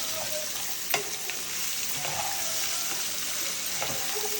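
Onions fry in a pan with a soft, continuous sizzle while being stirred, with a few light scrapes and one sharper knock of the spoon, fairly quiet throughout.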